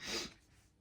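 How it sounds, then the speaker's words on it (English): A single short sniffle or snort of breath, close and fairly quiet, fading into near silence with no talking. "I apologise if I'm sniffling."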